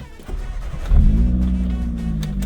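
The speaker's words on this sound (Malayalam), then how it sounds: "വണ്ടി ജസ്റ്റ് ഒന്ന് നമുക്ക് സ്റ്റാർട്ട് ചെയ്യാം" A modified Maruti Zen Carbon cranks briefly and its engine catches about a second in, then settles into a loud, steady low idle rumble close by.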